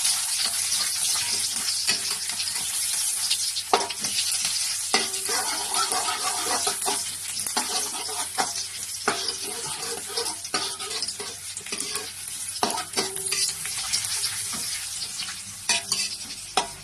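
Garlic sautéing in a little oil in a pan before water spinach goes in, a steady close sizzle broken by scraping stirs and occasional clinks of the utensil against the pan.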